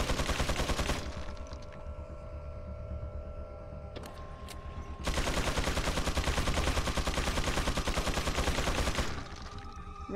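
Rapid, dense bursts of gunfire rattle in Resident Evil 4, loud and continuous for long stretches with a short lull between volleys, the shots forming a fast machine-like rhythm rather than single spaced rifle cracks.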